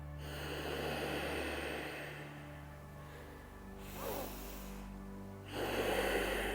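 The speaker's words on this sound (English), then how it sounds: "As you inhale, try and create that sound in the throat" A throat breathing exercise in the Darth Vader style: slow, hoarse inhales and exhales drawn through a constricted throat, several long rasping breaths close to the mic, with no talking.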